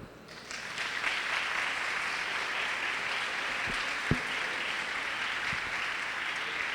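A church congregation applauds during a Portuguese-language sermon, with steady, even clapping at moderate volume that fills the room and is broken by a few louder knocks.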